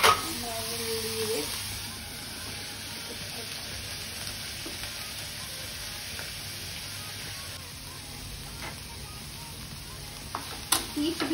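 Egg roll mixture sizzling and frying in a pan while being stirred now and then, a steady close crackle with a few scrapes and taps, a voice speaking briefly at the start.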